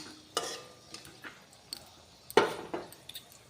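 Bay leaves and dried red chillies are stirred as they fry in oil in a pan, giving a few sharp scraping clatters of a spoon against metal over a faint, intermittent sizzle.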